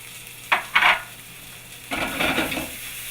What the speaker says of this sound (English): as you're sauteing your veggies, you can make sure that your potatoes are not sticking to the bottom of your pan